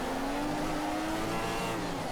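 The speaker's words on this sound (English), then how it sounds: "You can hear just revving the engine a lot over there" A Formula 1 car engine in the racing game F1 2015, a high screaming whine rising steadily in pitch as it revs hard, loud and continuous, with a rough mix of other cars around it during the first lap at the Russian Grand Prix.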